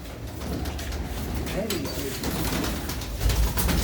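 Rocket pigeons in a fancier's loft give low rolling coos, close and steady, repeating under a voice that talks over them throughout.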